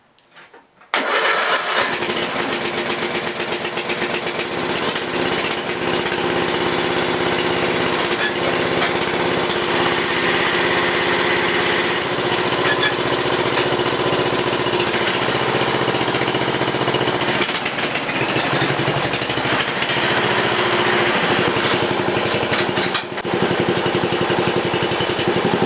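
Off-road lawn mower engine starts after a brief silence, then runs loud and steady at a constant drone for the rest of the time, close by.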